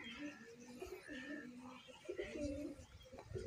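Pigeons near a Saharanpuri-cross and Punjabi pigeon loft give soft, low cooing calls in repeated phrases across the moment, close by and fairly clear, with faint rustling behind them.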